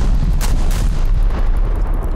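Naval guns fire in the video game War Thunder, a heavy booming roar of shots layered into a continuous loud rumble with sharp cracks over it.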